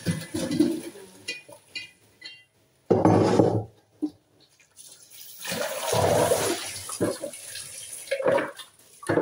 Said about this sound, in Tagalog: Itatapon natin yung tubig. May strainer ako dito.